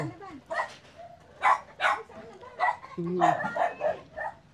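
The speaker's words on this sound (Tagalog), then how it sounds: "Bakit kaya ganoon? Ang daming aso." Several dogs bark and yip in short bursts at close range, with a person talking between and over the barks.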